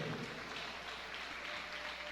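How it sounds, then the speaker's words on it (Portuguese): A church congregation applauds together at a Bible study led by a pastor, a dense, steady wash of clapping that fills the room without a break, with no voices rising above it. "Aplaude a Jesus Cristo."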